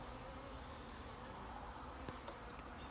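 Honeybees buzz around beehives at night in a steady, dense hum that continues throughout, with a few faint clicks and no speech.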